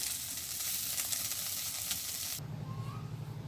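Taro stolons (lati) sizzle steadily in hot oil in a pan, a loud continuous frying hiss that cuts off sharply partway through, leaving a low hum and faint background noise.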